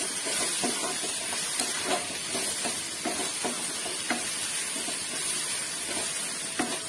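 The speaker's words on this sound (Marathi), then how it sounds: "सर्व एकत्र करून घेऊया" Prawns, potatoes and spices sizzling in a pan with steady frying hiss, punctuated by repeated scraping strokes of a spoon stirring through the mixture, close and alone without talk.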